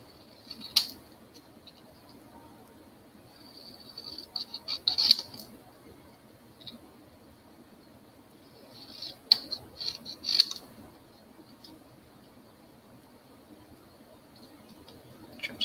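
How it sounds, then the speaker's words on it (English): Paper snips trim cardstock for a handmade butterfly card: crisp little snips and clicks arrive in short bursts, with quiet gaps between cuts. "I'm just going to use the paper snips,"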